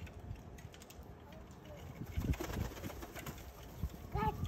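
Young racing pigeons in a loft coo softly and intermittently, with low burbling calls in the background and a few faint bird sounds, under occasional quiet talk.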